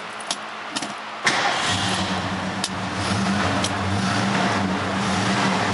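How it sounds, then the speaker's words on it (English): A 1970 Ford Torino's well-maintained engine cranks and catches after a couple of key clicks, then settles into a loud, steady idle that swells slightly and holds for several seconds. "I'm gonna go ahead and start it up."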